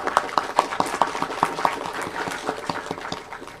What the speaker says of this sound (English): So let's give a round of applause for Tonga.